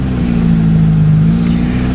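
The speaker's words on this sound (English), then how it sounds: "You can hear the strange sound is definitely air-cooled." An air-cooled Volkswagen Beetle engine runs loud and close with a steady, buzzy low drone, revving only slightly, with no talking over it.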